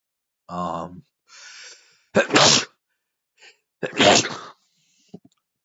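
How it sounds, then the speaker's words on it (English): A single sharp sneeze, close and loud, comes after a short vocal sound and is followed by breathy exhales and a second burst, with no talk over it. "I had to sneeze there"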